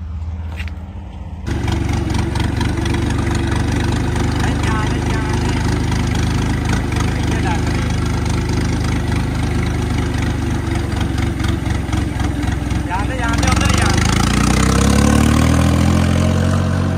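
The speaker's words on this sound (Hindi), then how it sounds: "इस मुंडा लेके आ गया ट्रैक्टर" A tractor engine starts and runs at a steady, loud idle close by during paddy (rice) work, with a rising, heavier engine note near the end.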